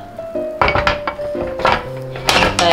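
A camping hot sandwich maker used indoors is opened on a pizza-style sandwich, giving a quick series of close metallic clanks and clinks.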